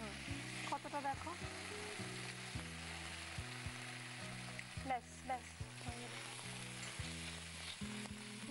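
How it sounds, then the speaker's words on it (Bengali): Poppy seed paste and potatoes fry in a pan with a faint, steady sizzle beneath louder tonal background music, and one short spoken word. "পোস্তটা ভাজা ভাজা হলে আমরা আলুটা দিয়ে দিই"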